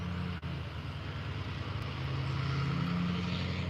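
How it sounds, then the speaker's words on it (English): Dually pickup truck pulling up in a remote rural area, a low, steady engine drone and tire rumble that grows slightly louder and nearer over several seconds, with no voices. "The dually truck pulls up."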